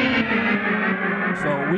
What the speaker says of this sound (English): we have the delay, and we have tape echo here too